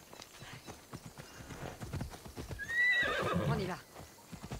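Horse hooves clip-clop in Assassin's Creed Odyssey, followed by a clear neigh rising midway, with game ambience and a voice talking over parts of it.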